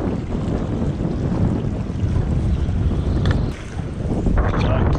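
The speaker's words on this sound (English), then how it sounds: "Ooh, it's windy." Strong wind buffets the microphone in a steady, loud rumbling roar, with faint water and boat noise underneath.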